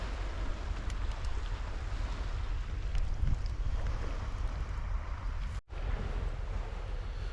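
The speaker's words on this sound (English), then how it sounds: "sounds of the waves crashing" Steady rush of waves breaking on a wild beach beside a small campfire, a continuous broad wash with wind buffeting the microphone and one brief dropout, no voices.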